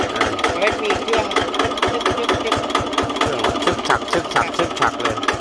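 An old Japanese generator engine on a 110V welder-generator set idles with a rapid, even chugging beat, loud and close, its rhythmic knocking continuing steadily throughout.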